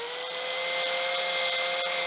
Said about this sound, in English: shouldn't take much at all to drill the end of it off